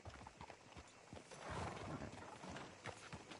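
Horse hooves clip-clop in the video game Red Dead Redemption 2, a quiet, uneven series of hoof strikes over a rustling background.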